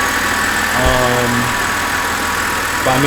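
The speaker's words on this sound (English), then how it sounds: "it's idling like shit" A BMW X5 E70 idles roughly with a steady, uneven mechanical drone and a faint knock, close by, while someone talks briefly over it.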